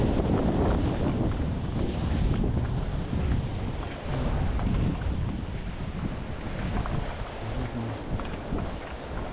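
Storm-driven sea waves breaking on the shore during a sea surge, with strong wind buffeting the microphone; a continuous, loud, rough roar of surf and gusts with no break.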